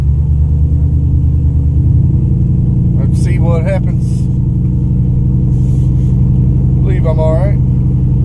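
A pickup truck's engine rumbles loud and close as it climbs a slope at a deer blind and food plot site, a steady low drone that deepens partway through, with someone talking over it.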